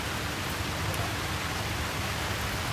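Steady rain falling during an outdoor conference championship sports match, a dense continuous hiss with no distinct drops, moderately loud and unbroken throughout.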